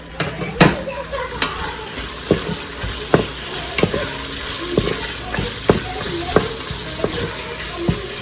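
Eggplant shallow-fries in an Instant Pot, a steady close sizzle broken by repeated sharp clicks and scrapes of a spoon stirring the pieces, with no talking.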